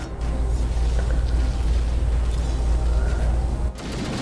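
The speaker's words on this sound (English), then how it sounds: "Plasma grenade. That did some damage." A plasma grenade explodes in a video game fight against Hunters: a dense, loud, sustained rumbling blast with mechanical clatter that holds steady for several seconds, then cuts off abruptly.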